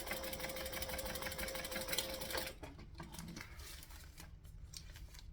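A sewing machine runs a fast, steady stitch up close, then stops and gives a few shorter bursts as it back stitches.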